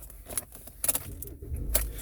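Keys to a Toyota C-HR LE jangle and clink in hand, several bright metallic rattles in quick bursts at close range, with no speech over them.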